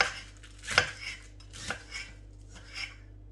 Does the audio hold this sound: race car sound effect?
no